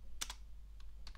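Keys clack on a computer keyboard while a command is typed at a Debian 12 Linux terminal, heard as a quick double tap and then two fainter keystrokes, quiet and close, over a low steady hum.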